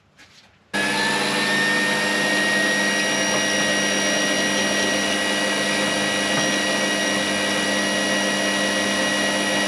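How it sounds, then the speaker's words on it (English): A steady, loud mini lathe whine starts abruptly and runs without a break as a drill bit bores out metal, with a constant high-pitched tone over a grinding metallic drone. "I'm now just going to go up in stages until I get to the biggest drill bit I've got."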